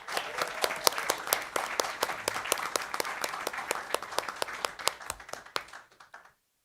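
Audience at a school district board meeting applauding, a steady stream of close, crisp hand claps from a modest group that thins out and stops near the end.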